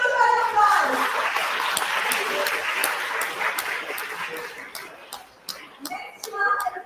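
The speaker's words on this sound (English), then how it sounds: "So shall we all cheer her up? A big huge round of applause." An audience at a school health fair in Delhi gives a child a round of applause, loud scattered clapping that thins out midway before picking up again, with faint voices underneath.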